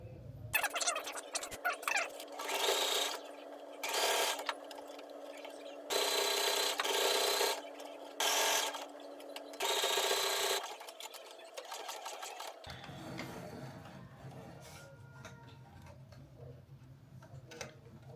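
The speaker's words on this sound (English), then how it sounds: "I'm about to attempt to sew this track on." A sewing machine stitches a hair track onto a wig in loud bursts of rapid mechanical whirring separated by short pauses, then gives way to quieter handling and rustling toward the end.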